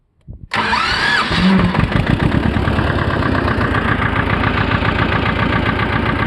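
A T25 Władimirec tractor engine cranks briefly, then catches and settles into a loud, steady, close diesel idle with a rapid knocking pulse that continues to the end.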